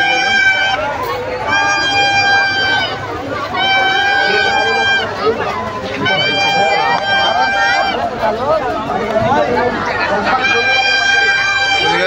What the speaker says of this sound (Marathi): गर्दी बघा, कसली गर्दी आहे राम मंदिर